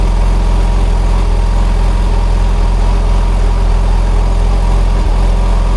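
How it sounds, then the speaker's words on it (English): A Hyundai i40 car rolls past the pumps at a petrol station. Its engine is a loud, continuous low rumble that holds steady throughout and completely dominates the scene. "I see an Hyundai i40 drive past the pumps"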